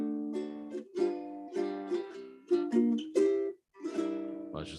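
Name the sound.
Hawaiian ending chords played on a fretted string instrument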